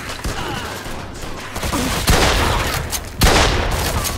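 Gunfire in the video game Mafia II: Definitive Edition, heard as a loud, dense fusillade of rapid shots with sharp louder cracks standing out over a noisy, continuous action backdrop.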